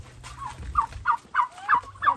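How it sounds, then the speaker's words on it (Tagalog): Turkeys gobbling at a turkey farm, a run of about five quick, warbling gobbles close by over low background noise. "Tagko na yung mga pabo guys oh."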